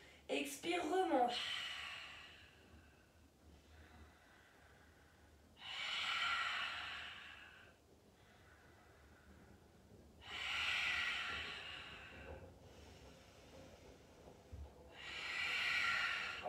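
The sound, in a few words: breathing during a pilates exercise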